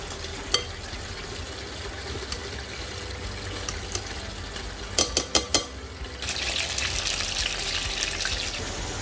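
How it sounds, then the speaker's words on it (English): Chicken seasoned with red chili pepper flakes sizzles in a frying pan, a steady crackling bed broken by a few sharp clacks of a utensil and a brief louder burst of frying near the end. "this is the kicked up chicken I have in the frying pan now"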